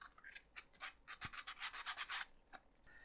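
Wooden model parts for a Robotime ROKR orrery kit having their edges smoothed, giving a quiet series of short scratchy rubbing strokes, brisker and denser in the middle, with no talking.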